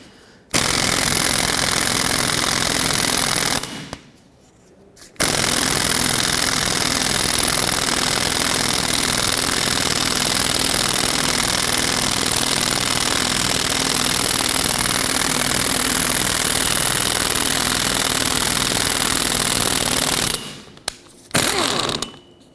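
A 22mm socket drives a wheel hub mounting bolt on a 2003-2021 Chevrolet Express 3500 van: a loud, continuous mechanical rattling and whirring, close by, broken by two short pauses.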